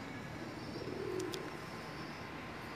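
Pigeons coo at night at a roost in Jeddah, Saudi Arabia, a faint low cooing under a steady background hum, with a couple of brief higher chirps midway.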